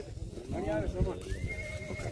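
A mare at a Sindhi horse race event in Bhachau, Gujarat, gives a loud, close whinny with wavering pitch, followed by a second rising call, while someone talks over it and hooves clop faintly.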